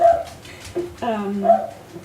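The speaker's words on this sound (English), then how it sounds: "It's my dog." A pet dog nearby gives soft whimpers and a few brief yips. The sounds come in short bursts over a quiet indoor background.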